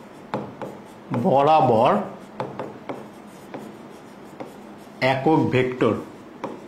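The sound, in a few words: writing on a board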